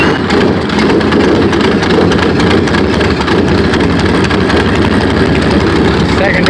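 An H5 engine runs after start-up with a loud, continuous, rumbling roar that stays steady from start to finish.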